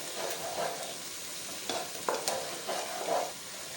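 Onions, garlic and ginger frying in a cup of cooking oil for a tinday gosht salan, a soft steady sizzle with intermittent stirring scrapes, close and faint without talk.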